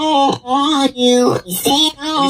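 A sung vocal chop repeats in short phrases, its tone sweeping and warping as a formant effect moves in and out, loud and upfront with no other voices.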